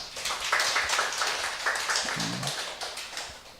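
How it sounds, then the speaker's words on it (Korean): A church congregation at a Sunday service claps in scattered, uneven taps at moderate level, with a faint voice underneath. "박수 좀 해줘요."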